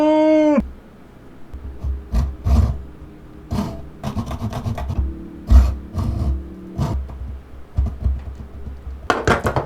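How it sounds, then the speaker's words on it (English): A hand saw cuts through a wooden dowel in short, uneven rasping strokes, close and moderately loud, with small pauses between bursts. "I'm just going to turn the dowel a little bit so I can start cutting through the other side"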